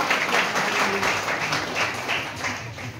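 A church congregation claps together during a Christmas service, dense continuous applause filling the space for a few seconds with no voices over it.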